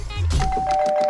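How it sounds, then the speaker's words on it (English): A doorbell rings once in a short, bright chime with a sustained tone, preceded by a low rumble. "What the hell are you doing ringing our doorbell like that in the middle of the night?"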